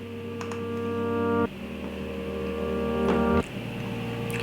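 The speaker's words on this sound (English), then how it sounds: "So that is layered with essentially a reverse piano that sounds like this." Swelling piano tones that rise in volume and cut off abruptly, a reversed-piano effect repeating about every two seconds.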